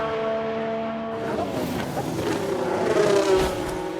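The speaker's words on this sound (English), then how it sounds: "Sounds like a few cars have crashed." Race car engines whine and rev in the F1 Manager 22 video game, steady tones giving way to a louder, rougher swell of engine and impact noise as cars crash, no voices heard.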